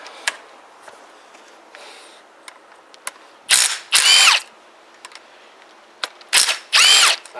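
Impact wrench zipping 12mm bolts off a Huoniao HN125 125cc engine during a top-end teardown: two loud, tight pairs of rattling bursts, each about half a second, separated by quieter clicks and handling noises.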